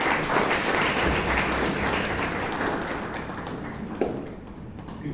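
Audience applause rises at a Toastmasters club meeting, a moderate patter of hand claps with some taps and thumps, fading slightly toward the end.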